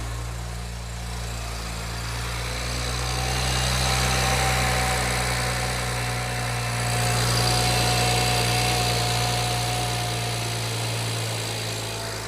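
A BMW E92 335i with the N54 twin-turbo engine idles steadily just after starting, fitted with new piezo injectors following leaking and starting problems; a continuous, even, close hum with no talk.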